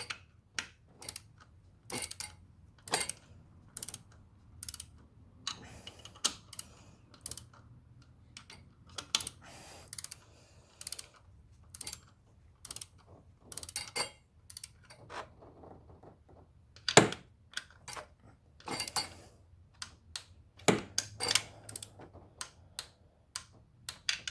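A wrench clicks in sharp, isolated ticks as fuel injectors on a BMW engine are torqued to 88 inch-pounds, with single taps and short bursts spaced irregularly against a quiet background.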